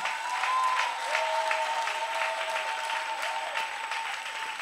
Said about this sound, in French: Si tu vois, acclame avec chaleur.